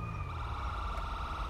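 An ambulance siren in the video game GTA V, a steady wailing tone held throughout at moderate loudness over a low engine rumble.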